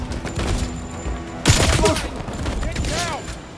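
Gunfire in the video game 007 First Light, set in a black-market bazaar: a sharp burst of shots around midway over a continuous rumbling battle din, with a voice shouting amid the action.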